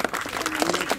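Audience applause at an outdoor historical reenactment of the 1920 defense of Płock, a dense, steady patter of many hands clapping throughout the short moment.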